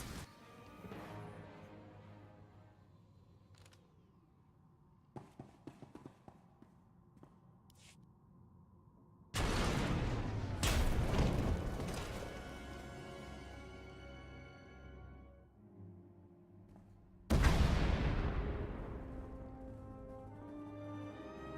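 Two loud booming video game explosions with rumbling, ringing decays, separated by quieter stretches of scattered clicks and thuds.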